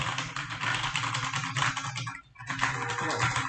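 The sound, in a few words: Cosmic Byte GK26 mechanical keyboard red switches typing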